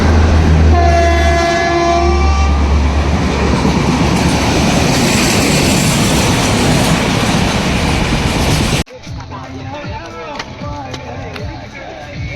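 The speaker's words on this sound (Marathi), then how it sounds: "आम्ही बोगदा क्रॉस केला आणि ट्रेन आलेली आहे नेमके" A train roars past close by just after a tunnel, its horn blaring at the start over heavy rumbling and rattling wheels, then the noise cuts to quieter clatter.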